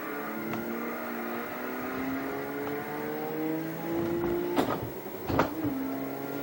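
Race car engine in a driving video game, revving up through rising harmonic sweeps, with two brief sharp bursts near the end as shifts are missed; steady and close with no talking.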